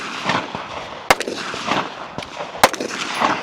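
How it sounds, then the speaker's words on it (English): Rifle shots at a shooting competition stage: two sharp, loud reports about one and a half seconds apart, each ringing briefly, over a steady wash of outdoor background noise. "And now Graham at the firing line, starting his rifle"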